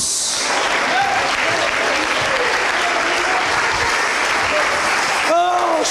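Church congregation clapping steadily, dense sustained applause filling the room, with a voice breaking through near the end.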